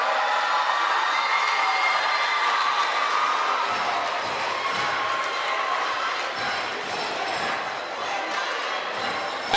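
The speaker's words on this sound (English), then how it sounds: "one more round of applause for both Cathedral and St." Applause and cheering from a crowd in a gym for the Cathedral and St. Thomas More senior boys basketball teams at a championship medal presentation, steady and fairly loud, with whoops mixed in.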